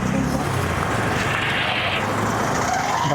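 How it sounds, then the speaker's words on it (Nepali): Vehicles pass on a road near the Karnali bridge by Bardiya National Park, a loud, close rush of engine and tyre noise that swells and fades over a few seconds. "अलि यता आउनु गाडीहरू आइरहेको छ"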